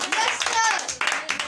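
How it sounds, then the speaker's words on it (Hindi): A burst of clapping from children during a home acid-and-base experiment lesson, quick uneven hand claps mixed with voices talking over them. "ताली तो बजा दो।"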